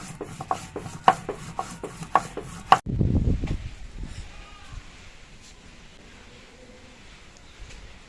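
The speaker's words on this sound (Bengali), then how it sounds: "কাঁচা লঙ্কা নিয়েছি আর নিয়েছি কিছু শুকনো লঙ্কা, দিয়ে বেটে নিচ্ছি" Green and dried chillies ground into paste on a stone, heard as a few sharp rhythmic scraping strokes followed by a loud rubbing grind that fades into softer scraping.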